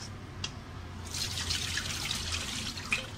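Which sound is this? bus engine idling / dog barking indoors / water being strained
water being strained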